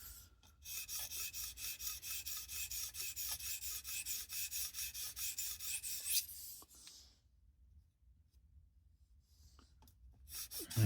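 A badly worn knife being fully reprofiled on a Tsprof Pioneer guided sharpening system, steady rhythmic rasping strokes of the abrasive on steel for several seconds, close and continuous, then stopping into near silence with faint handling noises.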